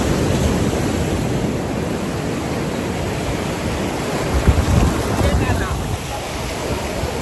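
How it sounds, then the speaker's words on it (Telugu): Large waves crash along Mypadu beach in Nellore, a steady loud wash of surf up close, blended with strong wind noise on the microphone and a brief surge midway. "అలలు పెద్ద పెద్ద అలలు వస్తున్నాయి ఫ్రెండ్స్."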